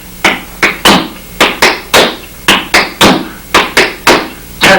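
Clogging-style flatfoot heel clap steps sound as crisp percussive foot strikes on a wooden floor, falling in steady groups of three, close and clear, with no speech.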